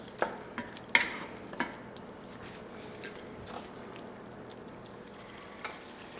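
Pastalaya ingredients sautéing in a pot, a low steady sizzle running throughout with a few scraping, clattering stirs of a spoon near the start.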